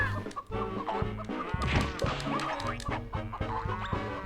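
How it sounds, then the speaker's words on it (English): Chickens cluck and squawk over and over from a video game, with short chirpy calls overlapping in a busy, steady stream alongside game music and effects. "There's a lot of chicken noises happening."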